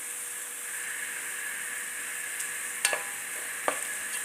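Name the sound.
onion being stirred and fried in a pan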